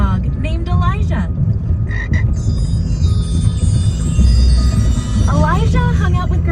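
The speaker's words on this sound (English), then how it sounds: "One day, there was a rainbow frog named Elijah." Frogs croaking loudly and continuously, with rapid rising, ratcheting calls repeating over a dense, steady chorus, close and dominant throughout.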